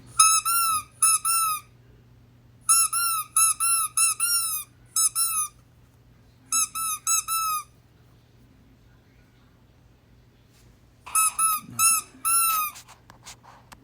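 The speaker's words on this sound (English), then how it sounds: "I just love the way mine squeaks" A Toy Story alien toy figure squeaked in bursts of rapid high chirps, several quick squeezes grouped together with pauses between, close and loud over a faint hum.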